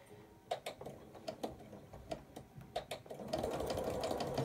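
A sewing machine stitches a curved seam on an apple core table runner with quiet, evenly spaced needle clicks, then speeds up into a steady continuous whir near the end.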